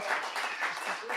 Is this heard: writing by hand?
no